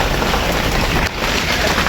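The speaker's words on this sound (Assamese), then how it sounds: "বৰষুণত ফাঁচি আছোঁ এতিয়া" Heavy rain pours steadily during a motorcycle ride near Deepor Beel, a dense, loud broadband hiss that stays constant for about two seconds with one brief dip.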